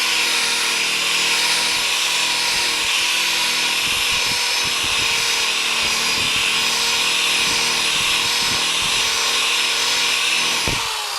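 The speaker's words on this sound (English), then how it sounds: "sitting out in the garage with this buffing ball and enjoying some buffing time" A buffing ball spinning on a power drill to polish metal with Flitz polish in a garage, a steady close whine with harmonic tones running throughout, broken by short scraping contacts.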